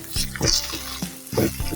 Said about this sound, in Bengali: এই তো আলু ভাজা হয়ে গেছে